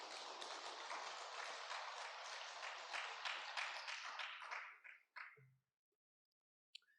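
A church congregation applauds together in encouragement during a Sunday sermon, steady dense clapping for about five seconds before it tapers off into a few scattered claps and silence.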